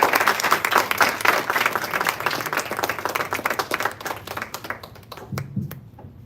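Sustained audience applause after a talk at a devotional satsang gathering in Edison, New Jersey, dense and steady clapping from many hands that gradually thins out and fades toward the end.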